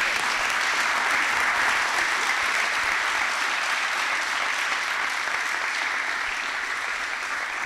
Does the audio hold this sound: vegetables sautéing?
no